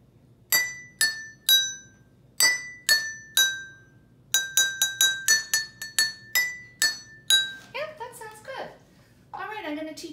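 Water glasses tuned as a xylophone are struck one by one, ringing bright pitched tings in an uneven sequence with a faster run of notes, close and clear; a voice briefly follows.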